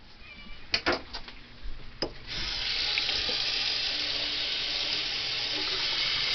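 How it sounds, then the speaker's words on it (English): Kitchen tap water runs into a sink while a knife is washed, a steady close rushing stream after a few clatters and knocks at the start; no talking. "Wash the knife."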